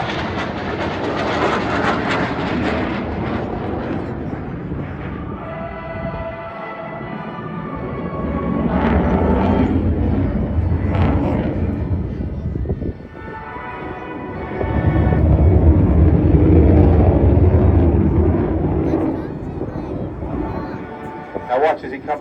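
An RAF Typhoon fighter jet performs rolling manoeuvres at the Blackpool airshow, its loud, sustained engine roar swelling and fading as it passes, with a commentator talking over it throughout.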